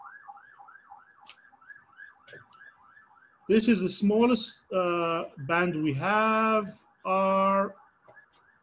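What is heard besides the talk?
ambulance siren in the background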